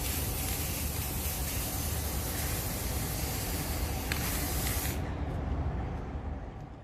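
An aerosol can of spray paint sprays onto a mirror in one long continuous hiss for about five seconds, then cuts off abruptly, leaving faint background.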